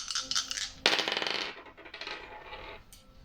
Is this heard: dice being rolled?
yes